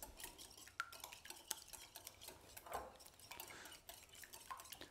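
Eggs being stirred in a bowl for madeleine batter, faint scraping and clinking of utensil against the bowl with a few sharper ticks, close and quiet with no talk.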